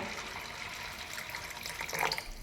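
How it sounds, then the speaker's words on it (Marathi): Water pours onto sago pearls (sabudana) being washed in a kitchen bowl, a steady close splashing flow that swells near the end. "पुन्हा एकदा पाणी घालूया"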